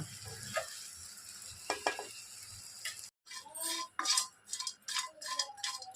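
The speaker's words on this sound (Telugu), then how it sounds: "చేపలు అయితే ఫ్రై చేసుకుందాము" Dried fish frying in a pan, with a steady oily sizzle. A utensil stirs and scrapes through it in several short bursts, close and fairly loud, with no talking.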